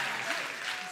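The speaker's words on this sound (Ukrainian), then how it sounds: "Оплески!" Studio audience applause on a Ukrainian TV singing show pitting X-Factor stars against Voice of the Country, a brief, loud burst of massed clapping lasting under a second.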